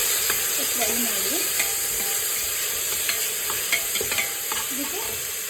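Onion, curry leaves and a tomato fry in hot oil for a brinjal sambar, a continuous close sizzle broken by scraping spoon strokes as the pan is stirred.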